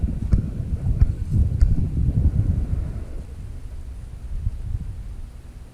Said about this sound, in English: That wind's going super hard that way